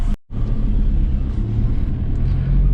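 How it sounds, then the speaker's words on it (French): A VW Golf 5 1.9 TDI with a power problem runs with a steady low engine rumble overlaid by a constant breathy hiss, like air being blown or sucked, after a brief dropout at the start. "j'entends comme un soufflement ou une aspiration"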